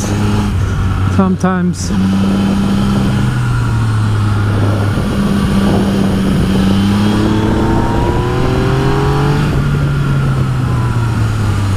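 A Yamaha XSR900 motorcycle engine revs and pulls hard on an open road, its note climbing through the gears with wind rush, while a rider talks over it.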